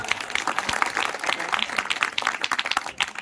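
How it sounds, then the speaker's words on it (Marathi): Audience at a village cultural program held for a Satyanarayan puja breaks into lively applause, many hands clapping in a dense, even patter that holds for a few seconds, close and fairly loud. "एकदा जोरदार टाळ्या झाल्या पाहिजे, जोरदार."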